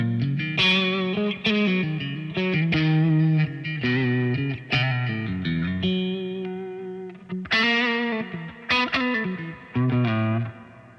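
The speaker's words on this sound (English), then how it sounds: "So this is the sound of the guitar with no delay, the reverb from Capital Chambers." Distorted electric guitar with Capital Chambers reverb and no delay through a BOSS DD-200 setup, loud chords and single notes ringing out with a lush, spacious tail, no voices.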